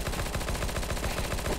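Rapid automatic gunfire in a video game shooter, a fast, even burst of repeated shots loud and close, with no talking.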